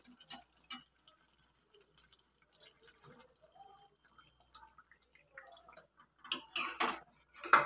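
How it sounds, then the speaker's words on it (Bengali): A little water is poured over small new potatoes coated in spice masala in a pot for vegetarian aloo dum: faint drips and trickles first, then a louder splashing pour near the end. "এবার আমি আলুটা সিদ্ধ হওয়ার জন্যে অল্প জল দেব"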